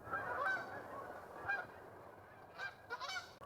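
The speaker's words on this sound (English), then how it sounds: "I think the geese are being a bit too loud now" Geese honk repeatedly, a scattered chorus of raspy calls at moderate distance, with bursts clustering near the end and no voices.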